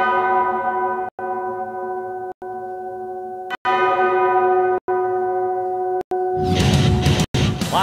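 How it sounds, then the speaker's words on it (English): A victory bell rings out loudly and steadily, its sustained harmonic tone struck again at regular intervals about every second, with crowd noise swelling near the end. "Victory bell! Victory bell!"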